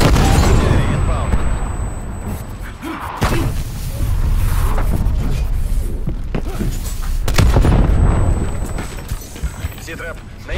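Heavy artillery shells strike in multiplayer Call of Duty Black Ops Cold War, with deep booming blasts and rumbling debris rolling in successive waves, loud and close, amid in-game voice chatter.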